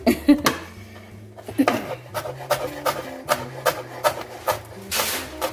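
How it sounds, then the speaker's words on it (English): A knife dices peppers on a cutting board for taco soup with ground brisket, giving a run of crisp, steady, close-up taps and knocks at an even rhythm. "So I like to cut my peppers into small dices"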